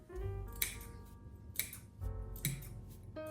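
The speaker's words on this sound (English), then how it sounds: "So we do have to clip around the curves here." Scissors snipping into fabric seam allowances around sewn curves while making a hobo bag, several crisp clips spaced about a second apart, close up with a hum in the background.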